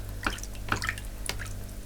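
Warm water dripping during a foot cleanse, a few distinct close drips spaced apart over a low steady background hum.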